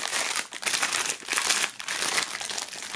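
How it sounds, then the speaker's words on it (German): Plastic film crinkles loudly and close up as the contents of a Fear Factory Mechanize box set are unwrapped, in steady irregular bursts with no talk. "starten wir mal die Sachen aus der Folie zu holen"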